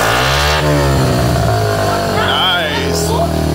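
A child's dirt bike fitted with an FMF PowerCore 4 exhaust pipe revs hard, its engine pitch climbing and falling in a loud, close, continuous whine.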